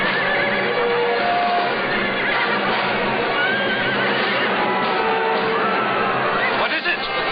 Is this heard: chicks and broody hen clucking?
no